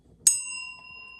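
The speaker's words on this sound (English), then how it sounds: "I'm going to ring the bell" A small bell is struck once, giving a bright, clear ding that rings on with a long, slowly fading shimmer in a quiet room.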